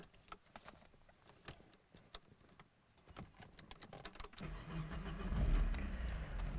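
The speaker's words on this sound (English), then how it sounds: "Let's start this car up." A Porsche 924S, a 1988 manual with a Dansk muffler, cranks and fires up near the end, settling into a loud, low rumble after a few seconds of quieter handling noises.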